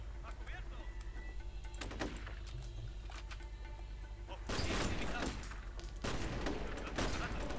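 Gunfire in the shooter game F.E.A.R., with sharp bursts of shots that grow dense and loud in the second half over steady game background noise.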